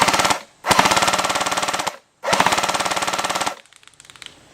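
A TM2H airsoft gun fires two long full-auto bursts of rapid, evenly spaced cracks, loud and close, with a short pause between them and a faint trailing rattle as the second burst ends.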